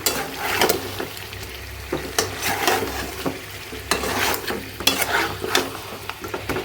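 Chicken and chunks of pumpkin stir-fried in a pan, with steady close sizzling and repeated scraping and clattering of a spoon against the metal at an irregular rhythm, no voices.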